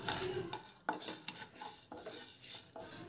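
Whole spices such as cinnamon, cloves, stone flower, coriander and pepper are stirred and dry-roasted in a pan for Chettinad mutton curry, with close irregular scraping and clinking of a spoon against the metal pan and soft sizzling.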